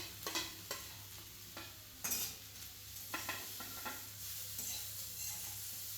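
Carrots frying in ghee for carrot semolina halwa give a soft, steady sizzle, broken by repeated scraping and clinking as a spoon stirs the pan. Quiet and close, with no talking.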